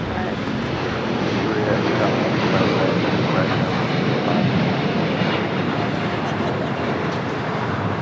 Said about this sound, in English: Beautiful Dreamliner takeoff with Latam Airlines, flight 8087, taking off to Sao Paulo, Brazil